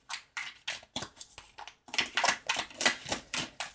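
Tarot cards being shuffled by hand, a quick series of crisp riffling snaps and soft flutters repeating close up, with no talk over them.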